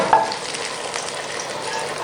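Green chilies and ginger sizzle steadily in hot oil for a tadka on cauliflower and potato sabzi, a close, continuous frying hiss with no talking.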